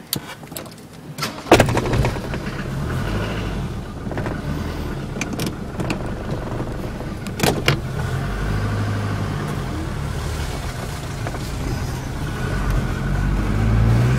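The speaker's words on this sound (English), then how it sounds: "So start up our biodiesel vehicle and take off." A biodiesel vehicle starts up with a sharp crank and then idles and pulls away, its engine rumbling steadily and building louder toward the end, with a few clunks along the way.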